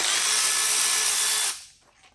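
A power tool spins an 8mm hex bit on the alternator tensioner of a PSA 1.2 PureTech engine, a bright, steady whir for about a second and a half before stopping abruptly.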